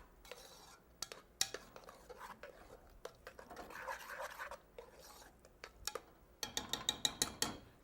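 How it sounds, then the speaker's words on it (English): Macaroni being stirred with a utensil to coat it in cheese for a short ribs macaroni and cheese dish, giving close, irregular scraping and clicking strokes that turn to a quicker run of sharp taps near the end. "we stir them around to completely coat them"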